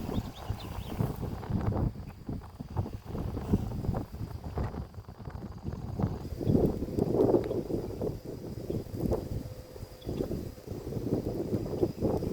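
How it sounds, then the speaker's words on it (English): Wind gusting outdoors beside a fire of burning trash, a steady rough rumble of blowing air with uneven surges and buffeting throughout, fairly loud and without talk. "the wind's blowing over here"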